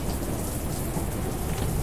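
Stormy weather in the video game Lethal Company: heavy, continuous rain hisses loudly with a deep thunder rumble rolling beneath it, dense and unbroken throughout, with no voices.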